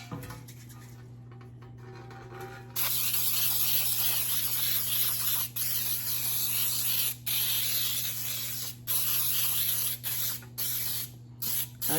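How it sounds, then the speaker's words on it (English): Baking spray hisses steadily onto a baking pan for pecan cinnamon buns, a close, loud aerosol stream running for several seconds with a few brief pauses between bursts. "spray it down with some baking spray"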